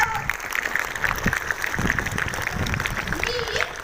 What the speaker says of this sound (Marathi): एकदा त्यांच्यासाठी टाळ्या वाजवा की.